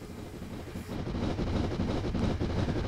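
An oncoming passenger train in the RailSim train simulator passes on the Templecombe–Evercreech line, a loud rumbling rush that swells after the first second and holds steady, with wind-like noise layered over the rolling wheels.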